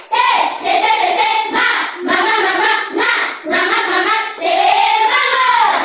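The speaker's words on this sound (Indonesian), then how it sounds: "Tepuk semangat." A classroom of schoolchildren doing a rhythmic spirit clap, loud close group clapping in patterned bursts mixed with chanting voices, pausing briefly between phrases.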